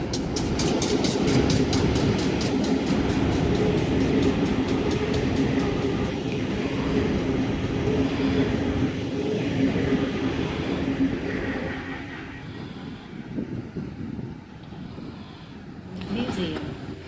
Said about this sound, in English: 2 Heritage diesel locos passing platform number 1